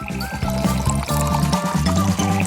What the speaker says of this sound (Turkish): Bir Nutella var. İçine süt dökeceğim.